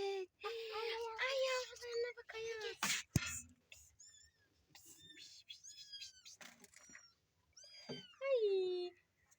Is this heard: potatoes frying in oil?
no